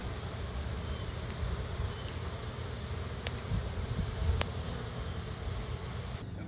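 Bees buzzing outside a weak hive after oxalic acid vapor treatment, a low, dense insect drone that hums steadily in the background, with a couple of brief faint clicks.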